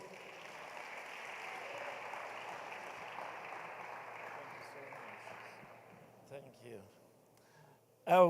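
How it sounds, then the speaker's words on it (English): Audience applause as a speaker comes onto a stage at a youth event, a soft, distant patter of clapping that fades out, followed by a brief voice and a sharp close sound at the end. "Round of applause."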